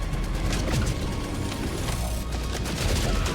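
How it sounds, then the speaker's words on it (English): Dense, continuous gunfire and booming from a Leviathan strafing run in the video game Helldivers 2, loud and sustained throughout, with rapid overlapping shots and no talking. "That is a really odd strafing run, because it's not targeting me."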